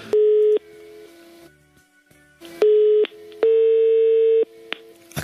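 Telephone tones play loud and close while a call is being placed: several steady beeps and longer tones of different lengths, separated by short gaps and quieter stretches of line noise.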